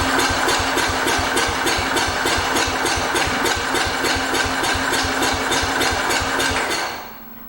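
A 1968 Cub Cadet 122 lawn tractor engine runs at a steady idle, loud and close, with an even chugging rhythm of firing pulses that suddenly drops away near the end.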